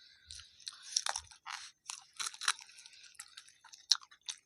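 Close, crisp crunching and chewing of food during an eating challenge, in irregular bursts of bites with short pauses and no talking.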